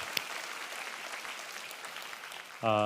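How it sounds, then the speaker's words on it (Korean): Church congregation applauding during a Sunday worship service, a steady wash of hand claps at a moderate, even level that runs throughout and gives way to a brief tonal sound at the very end. "우리 하나님께 감사와 영광의 박수 올려드리겠습니다."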